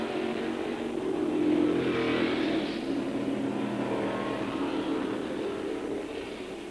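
A Tasman Series race car on the straight at Adelaide in 1972, David Hobbs at the wheel, its engine note swelling as it passes and then fading to a steady, moderately distant drone, no talking over it.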